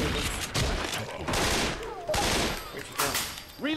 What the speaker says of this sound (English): I'm shooting zombies.